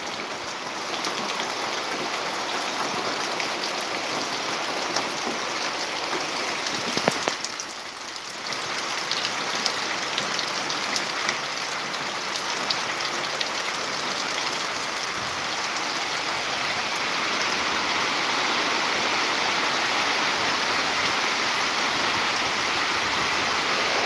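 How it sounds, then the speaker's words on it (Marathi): Steady rain pours down in Dodamarg, a dense continuous hiss with a brief dip partway through before growing slightly heavier, no voices over it. "दोडामार्ग मध्ये लागता हा पाऊस"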